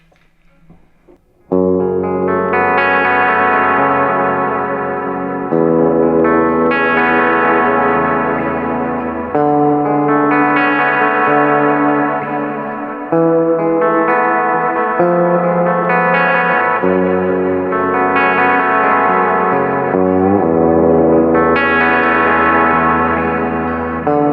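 Sustained guitar chords through a Walrus Audio Black Edition Lore reverb pedal, drenched in long, shimmering reverb, with a deep lower octave swelling through each decaying tail; several chords ring out in succession, loud and alone.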